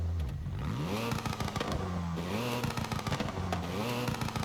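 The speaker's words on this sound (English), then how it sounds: "It kind of does the same pop pop pop pop pop," Exhaust of a new Hyundai hot hatch crackles with quick rapid-fire pops over repeated revving swells, close up with no talking.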